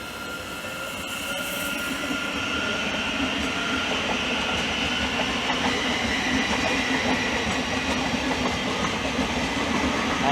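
A Thameslink Class 700 train pulls out of Hitchin station on the East Coast Main Line, a steady rising electric hum with rolling wheel noise and faint clatter that fills the platform throughout.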